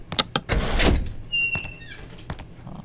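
A door opening in a horror-style video game about choosing between mystery doors, heard as a short swell of creaking and shuffling followed by a faint squeaky tonal whine and a couple of soft thuds, with no talk over it.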